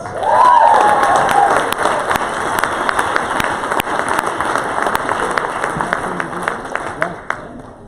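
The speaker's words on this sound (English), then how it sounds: "Give these guys a round of applause." Audience applause at a January 2020 company summit honoring top sales teams: dense, steady clapping with some cheering fills the whole stretch, fairly loud and close, fading slightly at the end.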